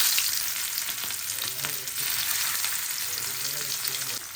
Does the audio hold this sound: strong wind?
no